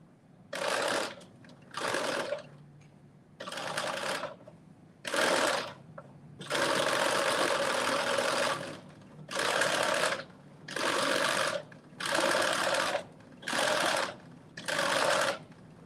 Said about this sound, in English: We're down to the last set of gathering stitches that we are going to put in.